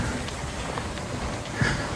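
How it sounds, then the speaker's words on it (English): Water pours out of a drain in a dusty canyon, a steady close wash of rushing noise with no voices. "And you got the sound of that drain"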